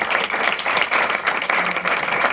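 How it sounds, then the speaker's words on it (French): Steady, loud applause from an audience, continuous clapping throughout. "On applaudit nos 4 partenariats."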